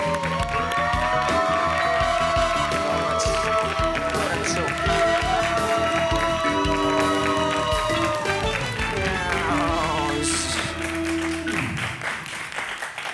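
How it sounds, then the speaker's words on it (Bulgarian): A studio audience at a Bulgarian Saturday-night talk show bursts into strong, sustained applause and cheering for an arriving guest, loud and continuous over lively band music. "Силни аплодисменти сега от вас за Калин Терзийски."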